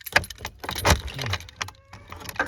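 Car keys jangle and rattle as a key goes into the broken ignition lock cylinder of a Chrysler 300, with a few close, bright metallic bursts and brief pauses.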